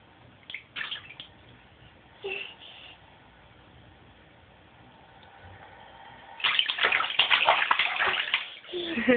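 A small child splashing water in a bathtub at bath time: scattered soft splashes early on, then a louder burst of vigorous splashing near the end, with quiet gaps and faint water sounds between.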